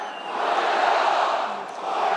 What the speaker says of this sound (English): Crowd gets excited again.